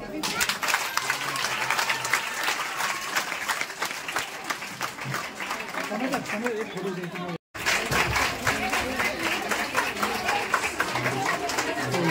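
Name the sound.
audience clapping together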